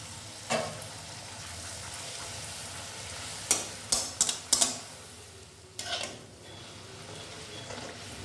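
Kachori stuffed with biuli dal fry in oil, a soft, low sizzle broken by a few sharp clacks of a utensil against the pan.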